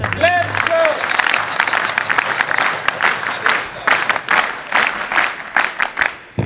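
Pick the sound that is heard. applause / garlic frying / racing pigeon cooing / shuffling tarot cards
applause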